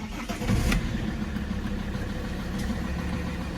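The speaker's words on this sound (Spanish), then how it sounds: "Pero yo pienso que este chillido leve es por la correa auxiliar." An Alfa Romeo 159 engine starts with a short burst and settles into a steady idle, close and loud, with a faint auxiliary belt squeal that the sound cannot confirm clearly.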